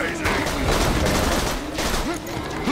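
Shotgun gunfire in the Borderlands 2 video game, a dense run of loud, overlapping blasts and chaotic combat noise lasting the whole short stretch, with voices in the background.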